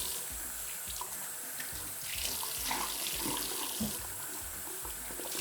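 Tap water runs steadily into a bathroom sink as a wet cloth is rinsed beneath the faucet, a continuous close splashing wash with slight surges partway through and no talking.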